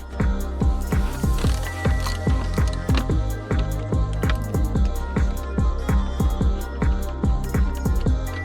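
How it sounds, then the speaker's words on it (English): Screws being backed out of a car's center console beneath the armrest during a handbrake repair, a close, steady run of rapid ratcheting clicks that continues for several seconds without talk. "Now what I'm going to do is take these two screws out here and remove these two screws."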